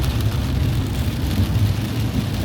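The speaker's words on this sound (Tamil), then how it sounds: "மழை ஸ்டார்ட் ஆயிடுச்சு." Rain falls on a car driving near Hosur, a steady broadband wash over a low road and engine rumble, continuous and fairly loud with no speech.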